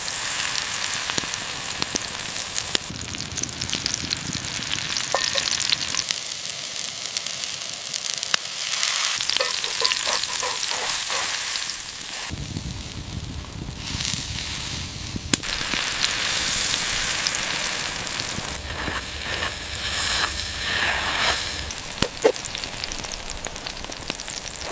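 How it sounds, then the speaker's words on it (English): A cheddar cheeseburger patty sizzles and crackles over campfire embers in the woods, a loud, close frying hiss with shifting intensity and occasional pops and stirring movements, no talking. "When it hits the fire, you get that incredible sizzle and aroma."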